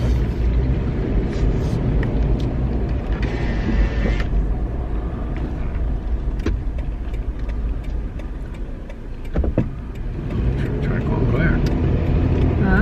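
A packed car is being driven, with a steady low engine and road rumble continuing throughout while people talk inside the cabin.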